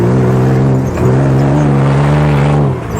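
A Baja vehicle's engine revs loud and close while driving a dirt track, the steady drone dipping briefly around a gear change before climbing and holding again.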